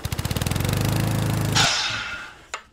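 A power miter saw set to a 30-degree miter throbs loudly and close, then its tone shifts into a brief rough cut through the wood. It winds down and ends with a single knock.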